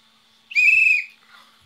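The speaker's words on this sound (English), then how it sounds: "There's a whistle." A single short, shrill blast from a 3D-printed whistle, clear and close, lasting about half a second, followed by a faint trailing tone and a click.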